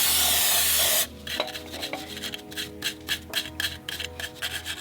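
Wire brush scrubbing crud off the hub of a BMW M235i F22 wheel, a steady burst of rough scraping strokes close up, preceded by a second of loud hiss.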